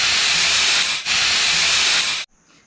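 A pressure cooker whistles and vents steam while cooking vegetarian dog food, a loud, close, continuous hiss with one brief dip that cuts off abruptly into quiet.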